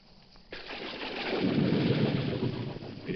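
A sudden roll of thunder breaks in and swells into a broad, sustained rumble over steady heavy rain, loud and close with no voices.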